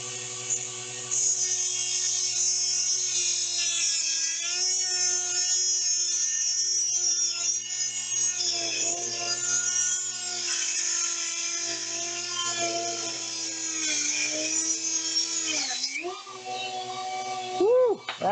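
A power tool cuts into a clay goblet with a steady, loud, high whine that holds for about fifteen seconds, shifting pitch as the blade bites, then sputters and dips near the end.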